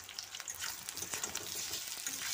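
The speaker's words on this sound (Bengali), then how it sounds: "একসাথে ভাজা হয়ে যাবে পেঁয়াজ আর আলুটা" Potatoes and onions frying together in a pan for a chickpea and potato curry, a quiet continuous sizzle with soft crackles and light stirring close by.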